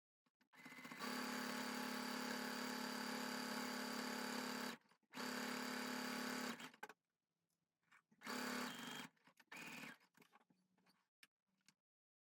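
A sewing machine stitches quilted fabric in several runs, a steady motor whir lasting a few seconds at a time, stopping and restarting, then a shorter burst and light clicks at the end.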